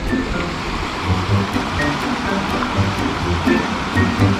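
Water pours steadily into a small pool at a rural spot in Doña Remedios Trinidad, Bulacan, a continuous rushing flow close by with a low churning undertone and no talk.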